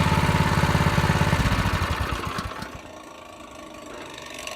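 A drift trike's small engine chugs loudly at idle and then is switched off, the rhythmic putter fading away into quieter background noise.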